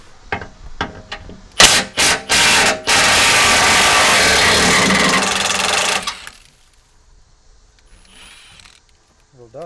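A 1/2 inch impact wrench with an 18mm deep socket removing carrier bolts on a Jeep TJ during a long-arm suspension install: several short loud bursts, then one sustained hammering run of about three seconds, followed by quiet.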